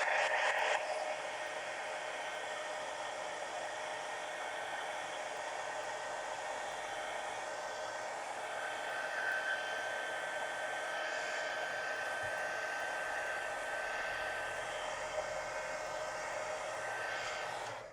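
A hair dryer blows steadily to dry a collage page of a steampunk mini book, a constant close whirring hiss with a faint motor whine holding nearly unchanged throughout.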